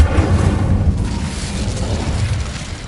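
A burst of the Incendio fire spell in the Hogwarts Legacy game, a dense roaring whoosh with low rumbling booms that fills the moment at close range and stays loud throughout without fading.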